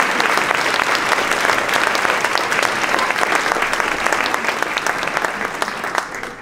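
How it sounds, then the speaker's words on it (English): An audience at a party celebrating Billy Bradford breaks into a warm round of applause, dense and continuous, tapering slightly toward the end. "let's give them a round of applause"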